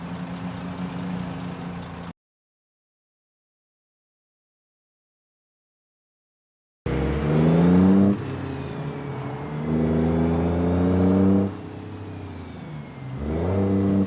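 A truck in American Truck Simulator revs and pulls away. The engine drones and climbs in loud, steady surges after a silent gap, with no one talking over it.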